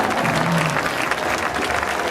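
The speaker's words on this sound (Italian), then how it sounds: "fate sto mega applauso" Loud, continuous applause from a dance show audience cheering a dancer named Vanessa, a close, dense wash of clapping with crowd noise mixed in, steady across the short stretch.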